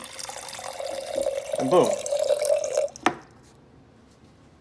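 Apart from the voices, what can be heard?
water pouring from a 2.5 gallon jug spout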